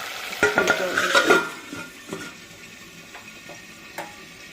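Soft sizzling and bubbling of leftover fish curry cooking down in a pan, with a few scrapes and stirring clinks of a spoon against metal.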